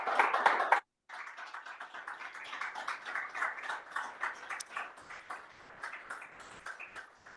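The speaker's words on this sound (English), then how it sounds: "let's give him a round of applause." An audience gives a round of applause after a talk on the value of charity, a dense patter of many hands that pauses briefly near the start and then carries on steadily at moderate distance without voices.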